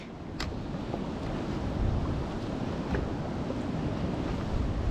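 Waves wash steadily around a small boat offshore, a continuous loud rush of surf mixed with wind buffeting the microphone and no voices.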